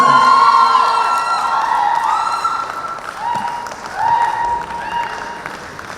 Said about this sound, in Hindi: एक बार फिर जोरदार ताली हो जाए everybody